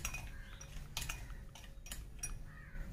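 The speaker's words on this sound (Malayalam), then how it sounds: "പഞ്ചസാര ഇട്ട് ഒന്ന് ഇളക്കണം" A spoon clinks against a glass while stirring sugar into juice, with several quick metallic taps in an irregular rhythm, fairly close and quiet, and no talking.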